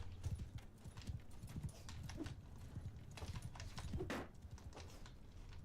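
Rapid hoofbeats of horse archers galloping in a Bannerlord battle against Battania, a busy clip-clop rhythm that runs throughout alongside background battle noise.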